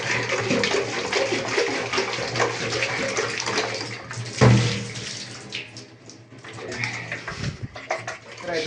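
Hot water pours steadily into a bathtub, a loud, close, continuous gush with shifting splashes as the flow changes partway through.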